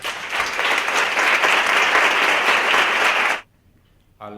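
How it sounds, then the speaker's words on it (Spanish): Sustained loud applause from a conference audience welcoming a speaker, dense steady clapping for over three seconds that stops abruptly, followed by near silence and a brief return of sound at the end. "yo creo que le recibimos con un fuerte aplauso."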